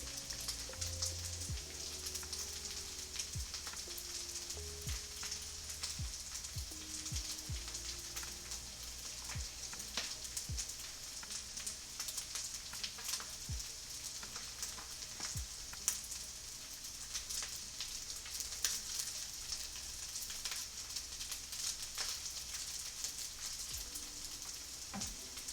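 Togarashi shrimp and vegetable fried rice sizzles steadily in a pan, a dense continuous crackle with scattered sharper pops throughout, close and alone without any talk.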